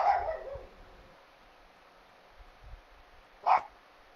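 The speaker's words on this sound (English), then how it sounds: "what's wrong with that dog?" A dog in a PUBG match gives a couple of short yelps and whimpers, one sharp cry near the start and another louder one near the end, with quiet gaps between them.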